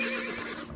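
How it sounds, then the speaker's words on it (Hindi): A horse neighs in a children's story, a single short, bright whinny that stands alone. "एक बार एक घमंडी घोड़ा था।"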